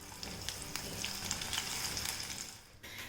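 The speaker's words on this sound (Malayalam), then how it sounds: "അടുത്ത ബാച്ച് ഇതിലേക്ക് ഇട്ടിട്ട് ഫ്രൈ ചെയ്തെടുക്കുകയാണ്" Soya chunks fry in hot oil with a steady, close sizzle and scattered crackles and pops, which drop off briefly near the end before resuming.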